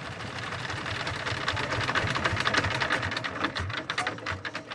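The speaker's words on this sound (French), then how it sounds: "Son moteur est en fait une vieille pompe d'irrigation." A worn-out boat engine built from an old irrigation pump runs in a fast, rattling, mechanical clatter, loud and close with a steady rapid beat.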